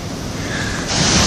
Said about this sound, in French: les vagues sont pas laides, qui se déploient bien